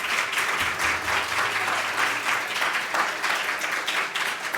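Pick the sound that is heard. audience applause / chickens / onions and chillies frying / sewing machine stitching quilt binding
audience applause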